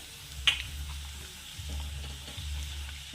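Red chili powder and turmeric frying in hot oil with village-style val bean pods in a pan, a soft steady sizzle with a low rumble and occasional stirring scrapes, close and quiet.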